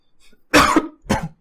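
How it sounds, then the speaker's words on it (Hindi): Two harsh coughs, a longer burst followed by a shorter one, close to the microphone, with faint movement noise before them. "खांसी हो रही है आज, खांसी"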